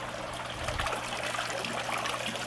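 Pond water is poured onto a potted plant in a tropical backyard garden in Los Angeles, a close, continuous trickle and splash over a steady outdoor background with no speech.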